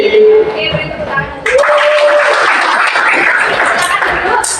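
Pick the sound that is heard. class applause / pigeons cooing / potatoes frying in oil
class applause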